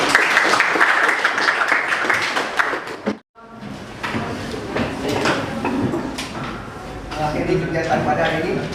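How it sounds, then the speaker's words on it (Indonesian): A classroom full of students applauds loudly and continuously, the clapping breaking off briefly before resuming with voices mixed into the noisy crowd. "Beri aplaus dulu."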